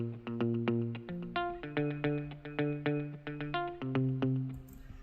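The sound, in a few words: Ample Guitar virtual guitar, strum set for singular notes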